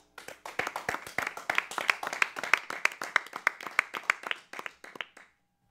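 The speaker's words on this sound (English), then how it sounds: "Another round of applause," Audience applause after a live vocal and guitar duo performance: a steady stretch of distinct, fairly close hand claps at an even pace that thin out and stop after about five seconds.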